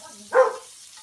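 A single short dog bark sounds at a moderate distance indoors, brief and alone against a quiet background.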